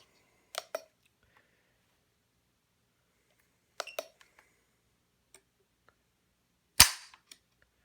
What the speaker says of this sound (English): So now we're going to see what we get for trigger pulls.